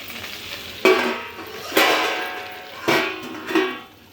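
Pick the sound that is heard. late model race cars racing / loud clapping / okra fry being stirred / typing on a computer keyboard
okra fry being stirred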